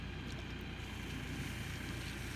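A steady, droning engine rumble from a New Holland Workmaster 40-horsepower compact tractor runs continuously at an even level, with no talking.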